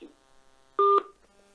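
Phone call tones play through a Bluetooth speaker: a faint blip, then one loud, steady dual tone lasting about a fifth of a second, followed by quieter lingering tones.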